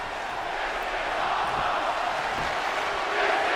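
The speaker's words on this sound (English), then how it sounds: "Crowd chanting, this is awesome." An arena crowd in the wrestling video game WWE 2K22 chants and roars as a steady, broad wash of many voices that swells slightly toward the end.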